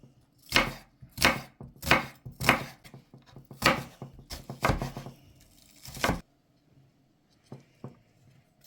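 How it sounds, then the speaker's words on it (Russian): A knife chops an onion into small cubes on a cutting board, a run of crisp close strikes for about six seconds, then quiet with a couple of stray taps. "И теперь нарезаем лук мелкими кубиками."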